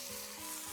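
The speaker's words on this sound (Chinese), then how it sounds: "给它先爆炒" Duck meat with ginger slices and garlic is stir-fried in a wok, giving a dense, close, continuous sizzle with a faint stirring scrape and no voices.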